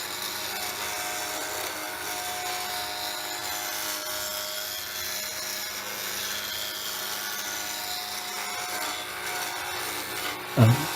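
A woodturning tool cuts wood spinning on a lathe, giving a steady, continuous broadband scraping whir at moderate volume with no talk. A brief louder thump comes near the end.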